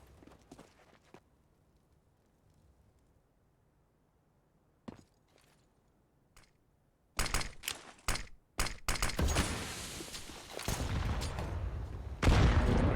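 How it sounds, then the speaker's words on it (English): Counter-Strike match on Dust2: after a quiet stretch with a few isolated clicks and shots, a burst of gunfire and grenade blasts erupts, loud sharp cracks and rolling bangs crowding the second half. "Grenades."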